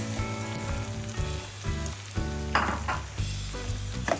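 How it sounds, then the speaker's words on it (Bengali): Rice for white polao being stirred and fried in a pan, a steady close sizzle with repeated scraping strokes of the spoon every half second or so, no voices. "এখন 2 থেকে 3 মিনিট পোলাওটি নাড়িয়ে ভাজা ভাজা করে নেব"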